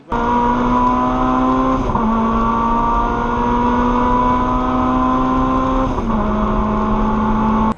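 A Class B race car with engine output up to 300 brake horsepower roars past at full throttle on a circuit, loud and close, with the engine note dipping at two distinct gear changes, and no other sound on top.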